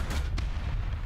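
A tank cannon shot in the War Thunder video game, a single heavy booming report with a low rumbling tail, loud and close, with no talk over it.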